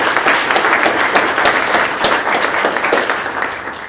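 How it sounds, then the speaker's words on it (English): A room of people gives a round of applause, close and loud, with individual sharp claps standing out in a steady patter that slowly thins toward the end. "He deserves a round of applause,"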